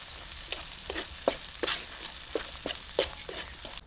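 Whole onions and crushed peanuts sizzling in hot oil in a pan, a steady frying hiss broken by irregular crackles and pops, close and moderately loud with no voices.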